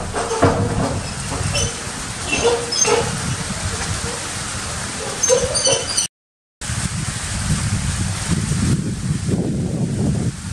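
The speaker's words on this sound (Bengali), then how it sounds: "বাতাসের শব্দ শোনা যাচ্ছে" Strong storm wind gusting across a rooftop during light rain, a continuous broad roar that swells and eases throughout, with a brief dropout midway and faint clatter in the first half.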